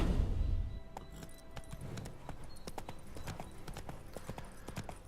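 Roach the horse in The Witcher 3 walks with steady, clear clip-clop hoofbeats that repeat evenly throughout, after a brief low rumble at the start.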